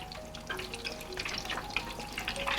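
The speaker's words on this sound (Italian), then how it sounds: "È il momento di andare a friggere le nostre polpette" Handmade meatballs frying in very hot oil, a dense, crackling sizzle with popping bursts that runs steadily throughout, close and moderately loud with no talk.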